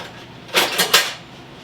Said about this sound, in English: I'm going to grab my whisk here.